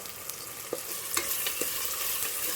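Vegetables with curry masala, biryani masala and rock salt sizzle in a pan for vegetable biryani, a steady frying hiss broken by a few scraping stirs.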